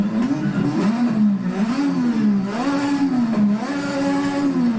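A Lotus 98T Formula One race car engine in the Assetto Corsa video game revs steadily and loudly, its pitch rising and falling in waves as it accelerates, with no talking.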